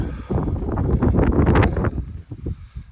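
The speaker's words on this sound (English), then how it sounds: "It started windy again" Steady wind buffeting a microphone on an exposed hilltop near a rock, a loud rumbling gusty roar that swells and eases over a few seconds.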